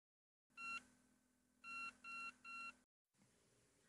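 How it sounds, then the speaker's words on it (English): A single clean electronic beep from a Schlage MT20W enrollment reader rebooting after a firmware update, a short pause, then three quick beeps in a row, close and clear. "There is the beep sequence that confirms that the MT20W has rebooted itself after updating the firmware."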